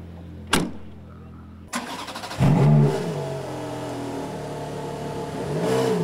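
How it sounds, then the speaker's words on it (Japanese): A Ferrari 430 Scuderia at the Twin Ring Motegi circuit gives a sharp burst, then a loud engine blip and a rising rev that settles into a sustained, fairly close drone. "ツインリンクモテギに持ち込まれた430スクーデリア"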